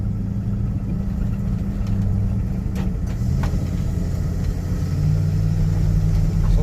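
A car with a Magnum engine on a road test drive, its steady low engine rumble and road noise running continuously and fairly loud throughout, with no talk.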